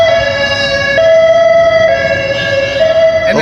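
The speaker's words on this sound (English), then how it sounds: "Wait for this ambulance to go by." An ambulance siren passes on a city street outside Brooklyn's Barclays Center, a loud, steady wailing tone with strong harmonics that holds for several seconds over low traffic rumble, with no voices.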